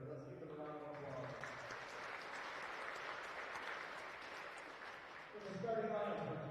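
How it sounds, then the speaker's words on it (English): Crowd in a high school basketball gym applauding the game officials, steady clapping throughout that swells louder near the end, with a voice faintly underneath. "Let's give them a round of applause."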